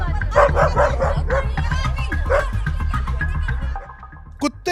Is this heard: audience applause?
no